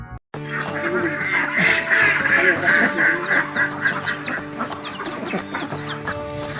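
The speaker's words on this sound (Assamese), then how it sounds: "হাঁহ কুকুৰা পালনেৰে স্বাৱলম্বিতাৰ পথ দেখুৱাইছে দৰঙৰ দীপাংকৰে" Ducks and chickens on a poultry farm in Darrang, Assam, a dense chorus of quacking and clucking from a nearby flock that runs loud and steady throughout.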